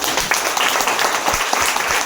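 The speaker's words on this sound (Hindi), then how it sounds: "एक ताली हो जाए डिएक्शन के लिए" A crowd at a leadership-program session gives a short burst of brisk, close applause, many hands clapping at once with no talk over it.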